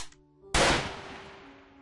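A single loud, close gunshot in the Clown House video game, striking abruptly after a faint tonal hum and then decaying into a long, fading tail.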